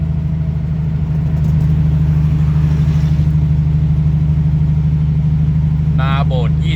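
A car engine gives a steady, loud low hum from inside the moving vehicle, with a voice briefly heard near the end.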